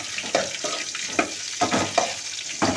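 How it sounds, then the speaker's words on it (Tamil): Okra sautés in a pan for a Tamil tamarind kuzhambu, a steady close sizzle broken by repeated scraping stirs every half second or so, with no voices. "வெண்டைக்காய் வந்து 2 மினிட்ஸ் நல்லா வதங்கணும் ஃப்ரெண்ட்ஸ்"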